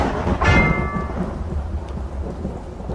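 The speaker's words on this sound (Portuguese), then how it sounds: "Assim que eu escutei o som de um trovão" Thunder crashes loudly during a night rainstorm, a sharp crack swelling into a long rolling rumble that fades away under steady rain.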